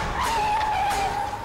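A car driven recklessly skids, its tyres letting out one sustained, fairly loud squeal that holds for over a second over the hum of the moving vehicle.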